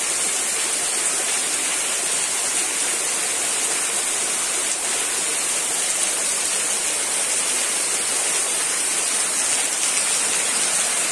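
Heavy, sudden downpour in Jardim Ceará, Brazil, pouring steadily as a dense, loud roar of rain that stays constant throughout with no talking.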